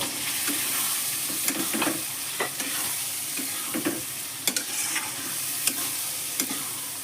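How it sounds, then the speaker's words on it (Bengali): Boiled potatoes and peas tipped into spice paste frying in a pan, giving a steady close sizzle broken by repeated sharp scraping and stirring clicks. "এখন সেদ্ধ করা আলু আর মটর দিয়ে দিচ্ছি"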